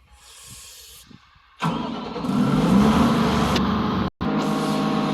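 The heavy engine of an SP-500 paving machine cranks and catches, then settles into a loud, steady rumble with a brief cutout near the end.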